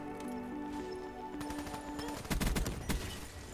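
Gunfire in a Black Ops 3 multiplayer match on PS4, a cluster of loud sharp shots near the end over a steady background of game music and ambience.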